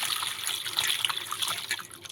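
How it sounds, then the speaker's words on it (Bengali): Water runs and splashes over cut raw potatoes in a bowl, a steady bright trickling stream with small drips throughout, close and alone. "এবার আলুর মধ্যে জল দিয়ে দেব।"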